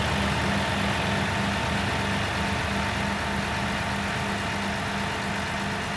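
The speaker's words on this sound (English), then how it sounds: "Engine is fired up and sounding good. When it's idling, it's not misfiring or anything like that." A diesel engine idles steadily after being primed, running smoothly without misfires; a continuous, even low hum holds for the whole stretch with no talk over it.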